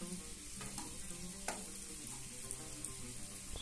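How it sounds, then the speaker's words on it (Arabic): Leeks sauté in butter and a little oil, giving a soft, continuous close sizzle with a few light stirring clicks, faint and steady throughout, no voices. "هنا غادي نشحر البورو بوحدو"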